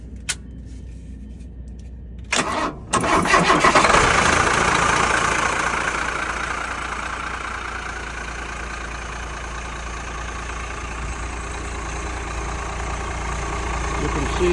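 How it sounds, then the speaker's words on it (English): A 1992 Vogue Prima Vista motorhome engine, heard from the rear, cranks and turns over after a brief pause, then settles into a steady, rumbling idle that runs on evenly and close by. "this is a short video of starting my 92 Vogue Prima Vista from the rear"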